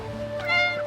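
A cat meows once in Final Fantasy XIV, a short, clear, tonal call that rises and falls near the listener over a soft background hum.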